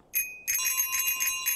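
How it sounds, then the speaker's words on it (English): A bright bicycle-style bell in Untitled Goose Game rings twice in quick succession, the second ring lingering with a sustained metallic shimmer, loud and clear with no talking. "Ring that bell. Double bell action."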